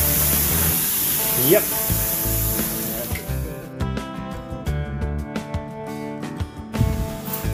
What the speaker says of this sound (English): And you just spray it on it, groom it in and leave it.